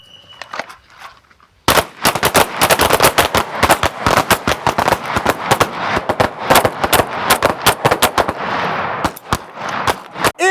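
Pistol gunfire at a shooting training session: rapid, loud, close shots in dense bursts, with a brief quiet stretch before the firing begins.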